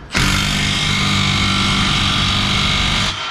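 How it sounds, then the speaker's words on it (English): A power drill drills into a car's exhaust area in one continuous high-pitched whine for about three seconds, loud and close, then stops. "I'm gonna push up on the exhaust again, and I'm gonna just drill it."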